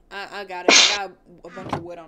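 A single sharp sneeze bursts out between bits of casual talk while friends play modded Minecraft.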